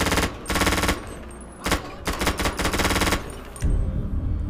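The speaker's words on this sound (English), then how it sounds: "next we're gonna get our micro SMG. See if that sound realistic enough" Bursts of fully automatic micro SMG fire from a modded video game weapon, several loud rapid strings of shots separated by short pauses, close and dominant.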